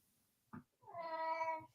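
A house cat gives a short sound and then a clear, drawn-out meow, faint and alone against a quiet background.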